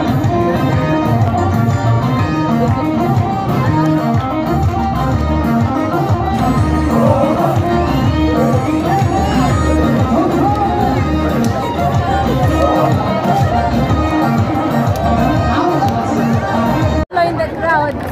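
A dense crowd celebrating Timket in Gondar, Ethiopia, with a steady roar of many voices, singing and chatter close around, continuous and loud throughout.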